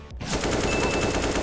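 Rapid rifle spray from Counter-Strike, a dense, loud burst of automatic gunfire with steady repeating shots running almost the whole time, no talking.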